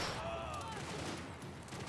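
Gunfire crackles in the video game Max Payne 3, a quick burst of rapid shots with a faint fading ricochet whine, fairly soft overall, and a voice talks briefly alongside.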